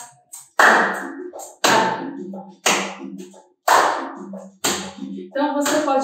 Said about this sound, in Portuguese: Então você pode brincar com essa palma